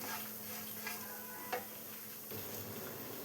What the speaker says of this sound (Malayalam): ഇപ്പോൾ തേങ്ങയെല്ലാം നന്നായി തന്നെ ഫ്രൈ ആയി വന്നിട്ടുണ്ട്